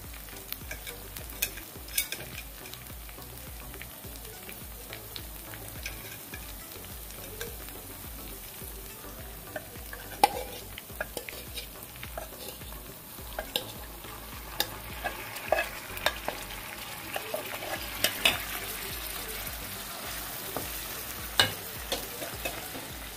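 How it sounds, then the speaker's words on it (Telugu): Prawns frying in a pan for a Telugu prawn fry, a steady crackling sizzle with frequent scraping and stirring clicks from a spoon, continuous and fairly close, with no talk. "మనం ఇందాక పెట్టుకుని రొయ్యలు దీంట్లో వేస్తాం"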